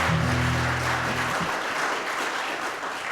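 A coffeehouse audience claps for the performer, a steady wash of applause at close range that opens over a brief musical tone and then carries on alone.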